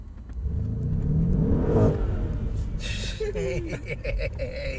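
A Mercedes E63 AMG accelerates hard from a standstill at a driving venue. A loud, steady engine roar builds and stays strong throughout, heard from inside the car with a passenger's gasp mixed in.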